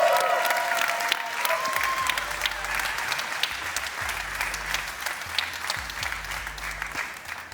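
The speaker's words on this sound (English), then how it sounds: "Ladies and gentlemen, a big applause for the all-new GLC." A crowd applauds the unveiling of the all-new electric Mercedes-Benz GLC at a launch event. Sustained, full applause from many people continues evenly throughout, with a low background hum running beneath it.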